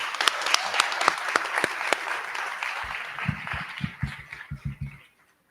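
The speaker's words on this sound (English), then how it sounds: "Let's give our governor another round of applause." Applause at a ribbon cutting ceremony, brisk clapping from a crowd that thins out into a few scattered claps and a voice near the end before stopping.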